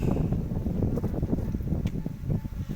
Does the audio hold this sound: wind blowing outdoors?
yes